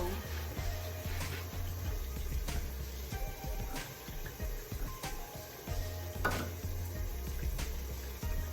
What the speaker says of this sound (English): So I just wash the dishes because I can't start cooking and have the sink full of dishes.